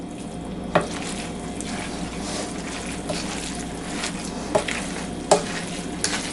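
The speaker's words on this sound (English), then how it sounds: "maybe give it a little bit more of a mix" Spaghetti being stirred and tossed in a pan, a steady sizzling, scraping texture with a few sharper clinks of the utensil against the pan, close and moderately loud, no voices.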